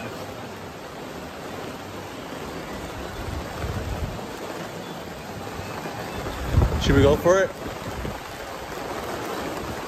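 Heavy rain pours down outdoors in a broad steady hiss that swells as a downpour bursts harder, with a brief spoken voice partway through.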